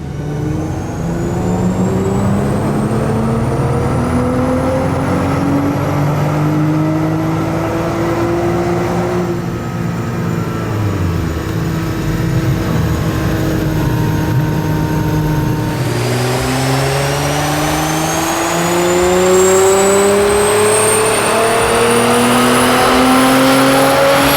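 A Nissan GT-R on stage 1 tune, running about 1.1 to 1.2 bar of boost, roars loudly on a dyno, its engine note climbing steadily in pitch through the gears with a brief dip and shift partway through.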